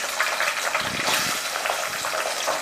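Twenty to thirty small onions and about ten garlic cloves sauté in hot oil with fenugreek, cumin and curry leaves, making a dense, steady, close sizzle that holds throughout.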